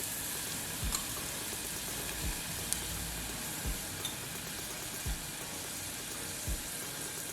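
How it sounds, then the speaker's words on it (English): Soft, continuous sizzle of green seasoning sautéing with eggplant in a pot, with a few dull low knocks of stirring at irregular intervals. "I will now add my 3 teaspoons of green seasoning"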